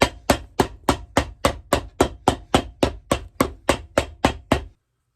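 Rapid, evenly spaced hammer blows on a shoe during resoling, about fourteen sharp strikes in a steady rhythm, close and loud, ending abruptly in silence.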